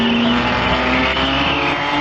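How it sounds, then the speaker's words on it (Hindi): A cartoon car, a Formula 1-style racer, speeds along fast with a loud, steady engine roar and a whine of tires throughout, with no talking. "ये कार तो सच में बहुत तेज दौड़ती है"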